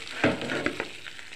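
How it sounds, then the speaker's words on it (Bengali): Fish pieces frying crisp in hot oil, a close, bright sizzle with quick crackling spits over a short stretch. "মাছগুলোকে সুন্দর মতো কড়া করে ভেজে নিব"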